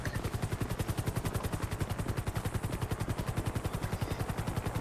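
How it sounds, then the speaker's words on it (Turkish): Rapid rhythmic gunfire with the steady chop of helicopter rotor blades overhead in GTA V, a police special-operations assault; the pulsing bursts run continuously and evenly throughout at moderate level. "Evet arkadaşlar silahımızı aldım üstten helikopter de desteğiyle."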